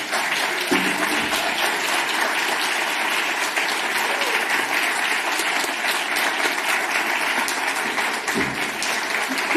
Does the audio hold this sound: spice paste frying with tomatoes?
no